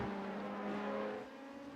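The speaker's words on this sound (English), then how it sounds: "And you can now hear these wonderful cars as well." LMP2 prototype race cars at Sebring in a sim racing game produce a steady, loud engine drone with a sustained whining tone and a slight pitch shift, with no talking.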